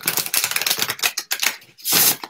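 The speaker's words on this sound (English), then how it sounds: "I'm going to shuffle these again real quick." Playing cards are shuffled by hand, a fast, dense riffle of papery flutters and clicks that ends in one loud sustained burr as the deck is bridged together.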